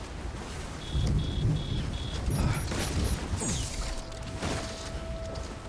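Timefall rain in the video game Death Stranding falls steadily, with deep rolling thunder rumbling beneath it and faint mechanical chimes and hums in the background.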